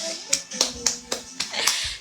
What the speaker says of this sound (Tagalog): Palakpak naman.